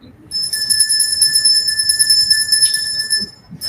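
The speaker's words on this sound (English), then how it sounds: "Touch the bell." A bell touched during a vision exercise rings out in a clear, sustained metallic tone with bright high overtones, a single strike that holds steadily for a few seconds with soft background noise beneath.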